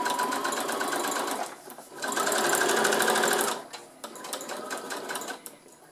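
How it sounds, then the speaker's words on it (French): Sewing machine running a straight stitch through fabric, in two bursts of rapid mechanical whirring and needle clatter separated by a short pause, close and fairly quiet with no talk. "Donc, on coud tout ça au point droit."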